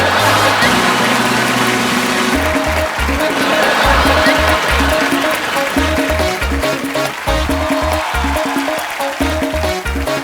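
A TV comedy show audience applauds loudly to welcome a singer, with music playing. Sustained clapping sits over a thumping, rhythmic band track with repeated bass hits and melody lines, and it stays loud throughout.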